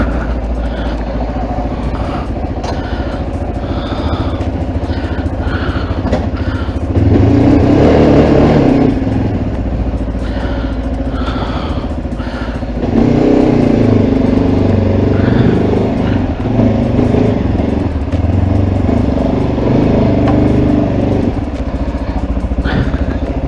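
A Mondial Rx3i motorcycle engine idles roughly after starting, with two louder bursts of revving rising over the putter, close by, with a voice heard briefly.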